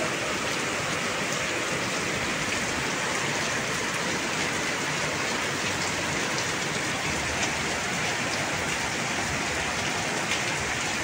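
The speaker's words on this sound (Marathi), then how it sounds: "जोरदार पाऊस आहे." Heavy rain falling steadily in Beed, a dense, even roar of drops on surfaces with no lulls, a constant wide hiss at close range and no voices.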